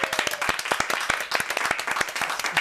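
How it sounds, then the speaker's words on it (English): A studio audience on The One Show applauds with dense, lively clapping that holds steady throughout, and a few voices sound faintly underneath. "Just clapped."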